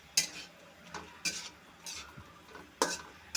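Turmeric and half a tablespoon of chili powder being stirred into a curry pan, with a few sharp utensil scrapes and clinks against the pan spaced about a second apart over a quiet background.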